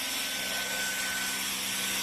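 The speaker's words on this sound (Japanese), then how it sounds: "掃除機のシャークがなんですごいかって" A Shark vacuum cleaner runs steadily, a continuous loud broadband whoosh with a faint motor whine, close by and alone without talk.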